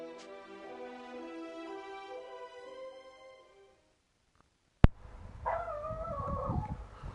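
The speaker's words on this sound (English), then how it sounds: "Oh god, that fucking dog." A dog in the Shining Resonance Refrain video game gives a long, wavering tonal howl that fades out, then a sharp click, followed by a shorter whining cry.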